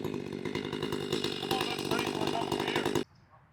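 A Husqvarna 572 XP chainsaw runs hard cutting firewood at an outdoor firewood event, a steady loud buzzing drone that stops abruptly near the end, leaving faint background noise.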